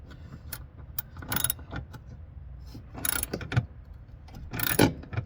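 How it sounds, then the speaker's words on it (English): A wrench loosens a 7/16 nut on a propane fridge being pulled from a Starcraft popup truck camper, giving short bursts of quiet ratcheting clicks between pauses and small handling knocks. "loosen that nut up and just get it off of there"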